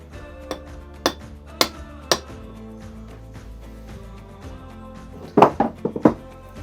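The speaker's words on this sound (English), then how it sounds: "I'm pounding this shaft all the way through, and it's connected to this piston" Hammer blows driving a yoke bar shaft through a truck transmission housing (RTO 12513), a few sharp metallic clinks spaced about half a second apart, then a quick cluster of ringing strikes near the end.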